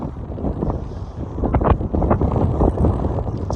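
Wind gusting across a trout lake fishery bank at dusk, buffeting the microphone with a steady, rumbling roar that swells and eases over several seconds.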